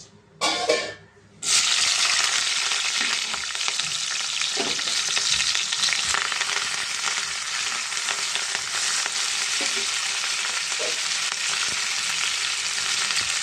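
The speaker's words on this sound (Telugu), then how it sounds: "దీంట్లో ఆయిల్ వేసిన ఆయిల్ వేడేయండి దీంట్లో ఒక ఉల్లిపాయ రెండు పచ్చిమిరపకాయలు కొంచెం కరివేపాకు" Onion, green chillies and curry leaves frying in hot oil for a tomato curry, a loud steady sizzle that starts after a brief clatter and continues alone throughout.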